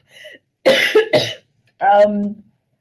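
A man coughs twice in quick succession, close and loud, then clears his throat with a short gruff sound.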